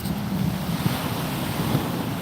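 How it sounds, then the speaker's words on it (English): Ocean waves break near a pier in a loud, continuous rumble and hiss, close and steady, with wind buffeting the microphone and no voices. "that's the waves, you guys."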